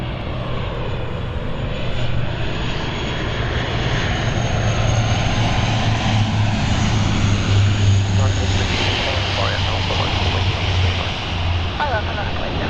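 A Luxair Dash 8 turboprop at London City airport gives a loud, steady propeller drone with a low tonal hum, holding for the whole stretch.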